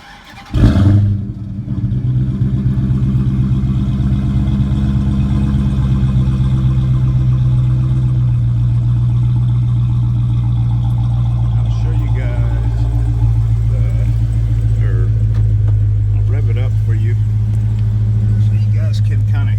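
A 2017 Dodge Charger Hellcat with a muffler delete cranks and fires with a sharp burst, then settles into a loud, close, steady rumbling idle that continues to the end, with faint background sound beneath it.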